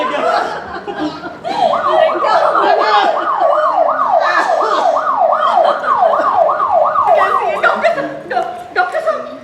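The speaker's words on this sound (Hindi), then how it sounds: "अरे जा एम्बुलेंस को लेके आओ" Ambulance siren wailing loud and close in a steady up-and-down sweep, repeating many times, with voices and commotion around it.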